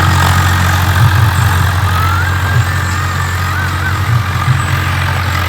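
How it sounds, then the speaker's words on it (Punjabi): A steady, loud tractor engine drones on at idle-like pace in a field, a low rumbling hum that stays constant throughout with no voices. "ਉਹ ਸਾਹਮਣੇ ਚੱਲ ਰਿਹਾ ਟਰੈਕਟਰ ਮਿੱਟੀ ਬੜੀ ਉੱਡਦੀ ਪਈ ਆ"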